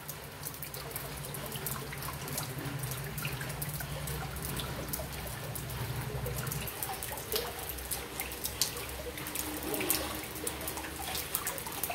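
Rainwater rippling in front of a house gate, with a continuous soft trickle and gentle lapping, scattered drips, and a low steady background hum.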